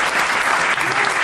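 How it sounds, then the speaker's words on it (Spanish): A studio audience gives a sustained ovation, dense and even clapping filling the room loudly without a break. "Peor todavía será la ovación tributada a Gillespie"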